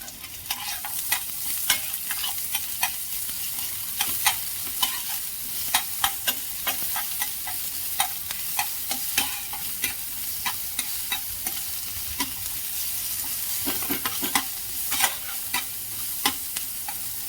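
Onions sizzle and fry in a pan over a high gas flame while a utensil stirs them, scraping and clinking in irregular bursts close by over a steady hiss.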